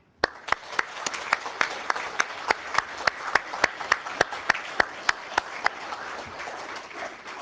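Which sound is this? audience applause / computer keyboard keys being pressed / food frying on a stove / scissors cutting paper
audience applause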